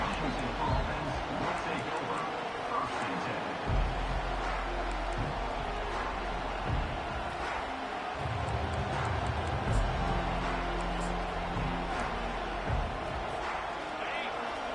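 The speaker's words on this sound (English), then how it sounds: "It's early, but this crowd is fired up. Listen to this noise here." A large football stadium crowd roars steadily in the distance, a continuous dense wall of cheering noise.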